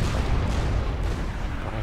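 Enemy artillery fire in the real-time strategy game Supreme Commander: a dense, continuous low rumble of booming shots without clear gaps, steady and fairly loud throughout, with no voices.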